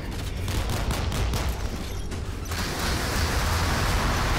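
Warship rocket launchers fire in the Modern Warships naval combat game, producing a dense, continuous roar of overlapping launches and rattling bursts that stays loud throughout.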